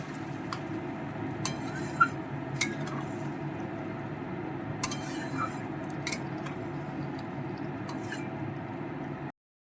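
Potatoes being stirred with a metal utensil in a pan with a little water for a vegetarian cauliflower and potato curry, giving steady soft scraping with occasional light clinks of metal on the pan, continuous and close.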